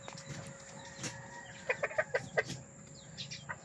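Chickens, a mother hen among sick chicks, give a quick run of soft clucks midway, faint and close against a quiet background.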